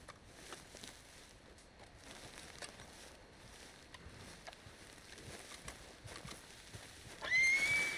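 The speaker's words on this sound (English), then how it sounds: "What's got this horse spook, huh?" A horse in the video game Red Dead Redemption 2 clip-clops along on hooves at a steady walk, then gives a sudden loud neigh near the end.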